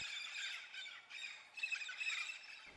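Red-spectacled amazon parrots in an araucaria forest give a continuous chorus of shrill squawks and squeals, distant and layered, with no talk.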